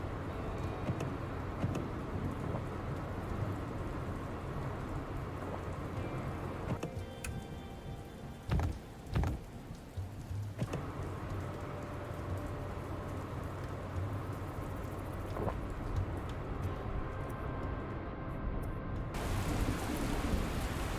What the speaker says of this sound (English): Oh, come on with this rain.